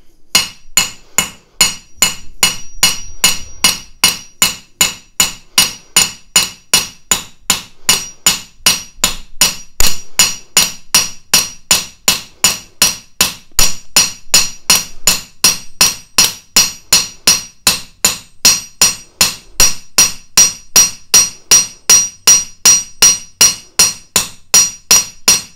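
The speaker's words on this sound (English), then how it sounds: "I'm going to hammer just like I did with the cross peen hammer" A ball peen hammer strikes copper in a long, steady series of sharp metallic blows, roughly two per second, loud and close with no talking.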